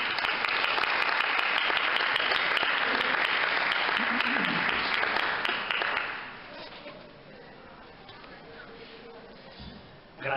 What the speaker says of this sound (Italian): a cui farei un grande applauso